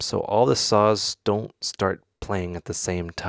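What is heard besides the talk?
No distinct noise like a dog, phone or traffic.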